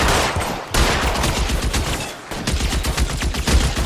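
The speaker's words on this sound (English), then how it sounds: "Shooter has a machine gun." Machine gun fire in the L.A. Noire video game: loud, dense rattling bursts with two brief pauses, close and continuous.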